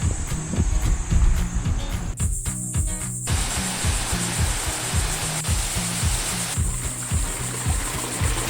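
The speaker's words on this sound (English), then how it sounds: "Only 15 minutes up and we've already passed 3 waterfalls. This one's awesome." A mountain waterfall in the Cederberg range roars as a steady, broad rush of falling water, with faint insect chirping mixed in and no voices.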